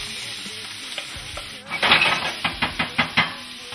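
Corn being stirred into olive oil with browned chopped garlic in a saute pan: a quiet start, then a burst of sizzling and a run of rhythmic scraping stirs, close and clear.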